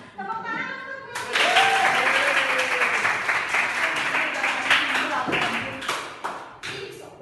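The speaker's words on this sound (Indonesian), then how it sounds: "Tepuk tangan untuk Meli." Classroom of children applauding, a broadband burst of clapping that starts abruptly and continues steadily for several seconds, with young voices talking and calling out over it.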